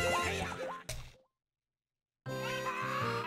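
A horse neighs in The Legend of Zelda: Ocarina of Time on the N64, loud, shrill whinnies with game music, broken by about a second of silence before the sound resumes.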